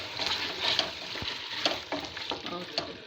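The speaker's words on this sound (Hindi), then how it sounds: "तकरीबन इसको 3 मिनट तक भूनेंगे" Beef frying in a pan with capsicum and black pepper for beef macaroni, a close, continuous sizzle with occasional spatula scrapes and stirring knocks, no talking.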